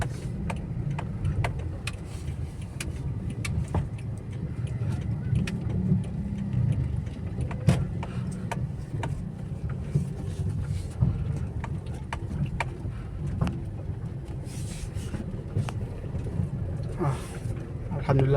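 A car idling or creeping past on a narrow road near an Islamic boarding school, a steady low engine rumble throughout with scattered ticks and bumps, fairly close and continuous, with some talk over it.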